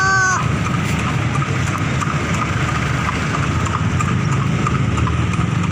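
Horse hooves clip-clop steadily over a constant engine drone, the rhythmic clatter close and continuous.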